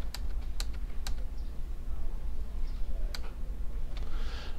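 Someone types on a computer keyboard close by, with a run of crisp, irregular key clicks against a steady low hum and no talking.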